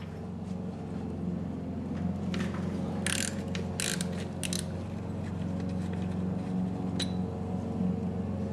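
Ratchet loosening a 14mm bolt on the intake manifold bracket of a Nissan 240SX KA24DE engine, with bursts of close, rapid clicking between quieter pauses over a steady low background hum.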